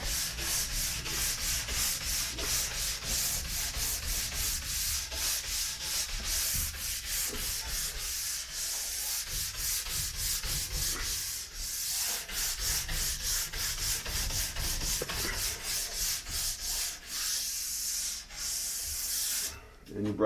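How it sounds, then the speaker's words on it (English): A nylon brush scrubs liquid wax off alpine skis in steady, continuous back-and-forth strokes, a close, loud bristly rasp that carries on without a break. "You just take your nylon brush,"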